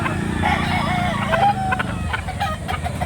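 Roosters and hens at a chicken market in Lipa, Batangas cluck and call close by in a loud, crowded jumble, with people talking over the birds.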